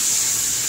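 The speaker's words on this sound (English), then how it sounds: "hot water to rinse them, so it's going to come pretty darn clean" Hot water streams steadily from a tap to rinse a circuit board, a continuous hiss of running water close by for under a second, with no talking.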